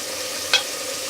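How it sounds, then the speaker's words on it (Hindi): Spices frying in oil for beef korma give a steady close sizzle, with one short sharp scrape of stirring partway through and no voices. "अब 3 से 4 मिनट के लिए मज़ीद इसको मसाले को भूनेंगे।"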